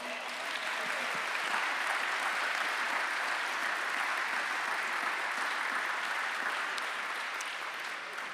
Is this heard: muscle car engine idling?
no